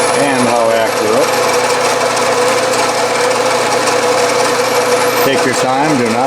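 A drill bit cuts steadily into the cylinder hole of a small steam engine part on a milling machine, giving a continuous loud whirring grind with shifting tonal squeals throughout.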